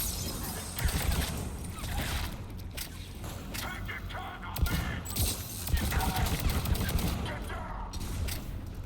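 Pistol gunfire in the Mass Effect 3 video game during a firefight with Cerberus forces, with repeated sharp shots amid a dense, continuous battle din of game effects and background noise.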